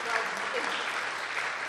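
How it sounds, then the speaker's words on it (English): Audience applause after a community radio theatre performance, a short, even wash of clapping, fairly soft and distant, with faint voices underneath. "Give him a round of applause."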